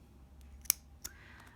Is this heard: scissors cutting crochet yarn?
yes